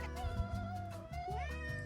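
A house cat lets out a drawn-out meow that bends upward in pitch near the end, close and clear over a low background hum.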